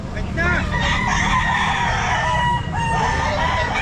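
Stag roosters crowing repeatedly at an outdoor pet market at Mt. Banahaw Grotto, several overlapping cock-a-doodle calls near and farther off amid clucking and a steady crowd murmur.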